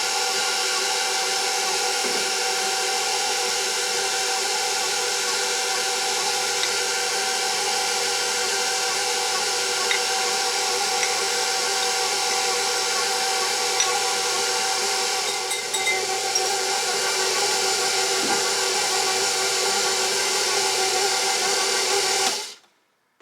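An electric mixer runs on low, mixing vegan pumpkin cookie batter, producing a constant close motor whine with steady harmonic hum that holds unbroken for over twenty seconds before cutting off abruptly.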